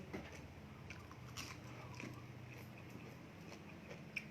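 Someone eats Korat-style seafood papaya salad by hand, giving soft close biting and chewing sounds with small crunches over a quiet steady background.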